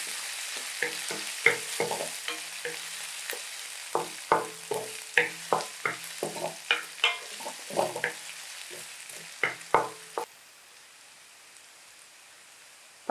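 Ginger sautés in a pan over high heat for a Schezwan chicken lollipop, with a soft sizzle under regular sharp stirring clacks about every half second, then falling to a faint hiss near the end.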